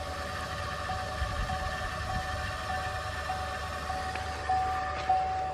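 Electric fuel pump priming on an L5P Duramax diesel truck with a CP3 conversion and air in the fuel system, a faint steady whine with repeated short chirps and clicks over low background hum, no talking.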